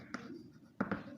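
Chalk or marker writing on a board during a maths lesson, a few short faint scratchy strokes in a quiet room, with two quick taps close together near the end.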